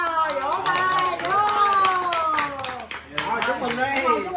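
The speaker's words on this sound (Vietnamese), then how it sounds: "Wow, vỗ tay, vỗ." A small group bursts into lively hand clapping at a dinner table, quick irregular claps carrying on for several seconds with a short dip near the middle, as voices chatter and cheer alongside.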